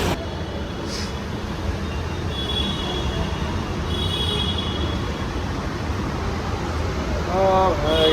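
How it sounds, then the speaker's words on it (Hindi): A metro train running with a steady rumbling roar and a faint squeal of wheels near the end, heard loud and close from on board. "मेट्रो में भी चढ़ गए।"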